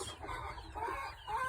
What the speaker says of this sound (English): here we have another chicken that's a mom